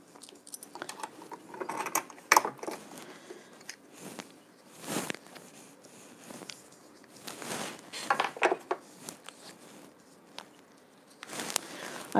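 Sewing machine stitching wool sweater material for mitten liners, with soft irregular mechanical clicks and short whirring runs, fairly quiet and close, no talking.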